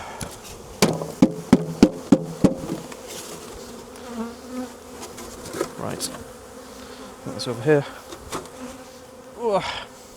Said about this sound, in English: the bees are now in this box